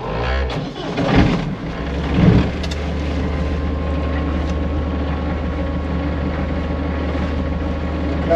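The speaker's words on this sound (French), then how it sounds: "on va faire l'essai avec le moteur et l'échappement pour vérifier qu'il n'y a pas d'eau qui coule ce coup-ci" A boat engine runs steadily during an exhaust test, with a continuous low rumbling drone and a couple of louder surges near the start, alone without talk.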